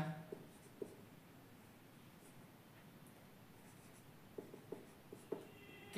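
Soft pen or pencil scratching on paper while an example is written out by hand, quiet and intermittent, with a few small taps and rustles near the end.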